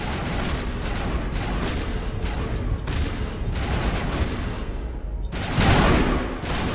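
Rapid gunfire from squadmates in the video game Mass Effect, dense continuous bursts of automatic shots with a heavier, louder volley near the end, no talking.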